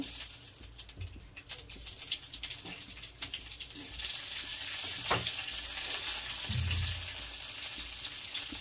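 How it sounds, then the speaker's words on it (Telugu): Green chillies fry in oil in a pan, giving a soft, steady sizzle and crackle that swells louder midway and holds, with occasional stirring scrapes. "పచ్చడికి నూనె పోసేసుకున్నాను వీళ్ళు పచ్చిమిర్చి వేసుకున్నాను"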